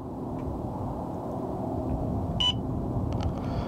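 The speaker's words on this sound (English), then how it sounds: "press and hold the power button here until it beeps." A short electronic beep rings out once as a DJI Neo drone powers on, over a steady background hum, followed a moment later by a couple of faint clicks.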